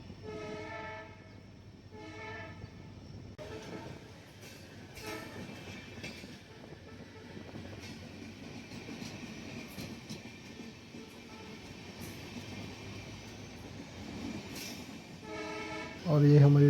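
A train departs from Lalgarh towards Bikaner, with a steady rumble and clatter of wagons throughout and horn blasts near the start and again at the end.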